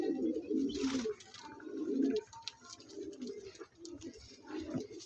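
Several pigeons coo in low, rolling bursts, fairly close and steady across the clip, with faint background bustle from a pigeon seller's loft in Bagnan.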